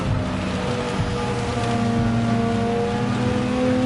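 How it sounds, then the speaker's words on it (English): A Gran Turismo Gr.3 racing car engine drones steadily at Tokyo East with tire scrubbing as it slides, plus a faint bump against a barrier partway through, with no talking. "You can hear the car sliding around with a little contact with the barrier there."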